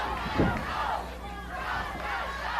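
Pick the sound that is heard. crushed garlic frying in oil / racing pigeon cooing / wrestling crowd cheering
wrestling crowd cheering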